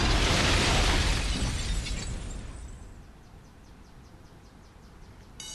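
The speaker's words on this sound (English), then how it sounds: "That was an interesting explosion and a very delayed alarm." An explosion goes off in the Spider-Man 2 video game, with a loud shattering burst at the start that decays over a few seconds into a quieter tail, ending with a faint tinkling of falling debris.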